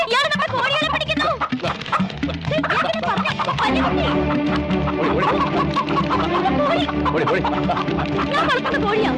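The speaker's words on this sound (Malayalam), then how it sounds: "കോഴികളെ പിടിക്കുന്നു." Chickens cluck and squawk loudly and without pause as they are chased and grabbed at close range. A dense, busy commotion carries on for the whole stretch.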